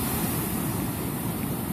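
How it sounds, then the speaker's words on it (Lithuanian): Ocean waves breaking on the shore at Tel Aviv, Israel; a steady, fairly loud wash of surf mixed with wind, with no voices. "kaip bangos dūžta"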